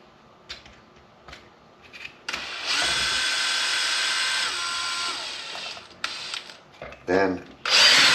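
A cordless power drill whines loudly for several seconds while backing out screws from an Outcast RC car, then stops, followed by shorter bursts and clicking handling noises nearby.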